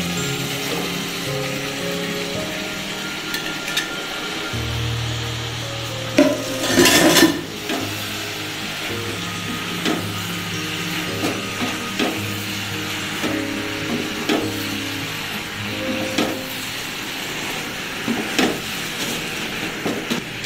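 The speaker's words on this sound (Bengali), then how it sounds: "এইভাবে নাড়াচাড়া করে ভালো করে মাখিয়ে নিতে হবে।" Vegetable pasta with chili sauce is stirred and tossed in a pan, with intermittent scrapes and clinks of a utensil over a low sizzle and one louder clatter partway through.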